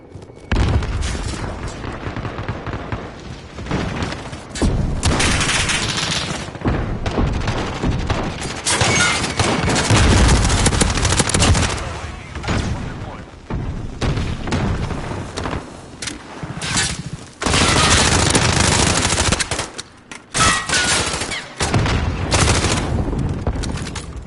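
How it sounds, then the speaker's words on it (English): Rapid gunfire and booming explosions from the video game Modern Warfare, a near-continuous barrage of loud shots and bursts with brief lulls, no talk. "I'm shooting my own teammates here."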